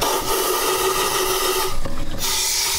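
Compressed air blasting out a freshly turned wood lamp base, a steady loud rushing hiss that runs throughout with a brief harsher burst partway through.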